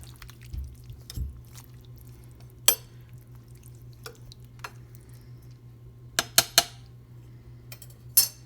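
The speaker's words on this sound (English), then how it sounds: "I'm just going to mix it a little bit so they get into the water." A spoon stirs beef stew with vegetables and broth in a crock pot, giving a few scattered light clinks and taps against the pot over a quiet, steady low hum.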